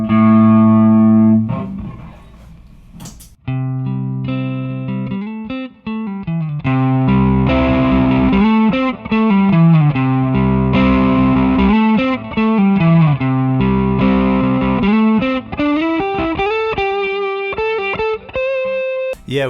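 Electric guitar played through an Ibanez Tube Screamer Mini overdrive pedal set to maximum, with loud, sustained distorted notes and chords ringing one after another for almost twenty seconds, no voices.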